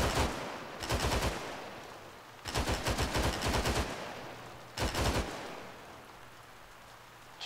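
Video game gunfire comes in three bursts of rapid automatic shots, each lasting about a second, separated by quieter gaps with a low steady hum.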